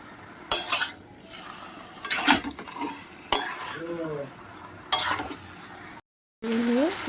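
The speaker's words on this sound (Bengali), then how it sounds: "ভালোভাবে কষতে হবে অন্তত দশ মিনিট কষতে হবে ভালো করে যাতে মটন থেকে তেলও বেরোয়" Mutton browning with spices in a pan while a spoon scrapes and clanks against the metal in a few separate loud bursts, with quieter sizzling in between.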